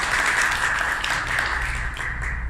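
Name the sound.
congregation applauding loudly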